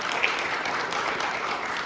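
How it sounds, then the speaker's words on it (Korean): A church congregation applauds visitors during a Korean Sunday worship service, a short, steady wash of many hands clapping together with no pause. "우리 환영하고 박수하겠습니다."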